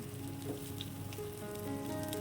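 Chopped onion and four or five pieces of minced garlic fry in hot mustard oil for Bengali mustard greens, making a steady, even sizzle throughout, quiet and with no voices.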